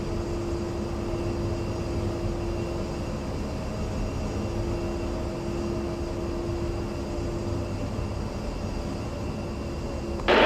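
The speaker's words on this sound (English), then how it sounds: "Afterburner." A fighter jet in the DCS flight simulator lights its afterburner, heard as a steady, dense engine roar with a sustained tonal hum that continues unbroken and swells louder right at the end.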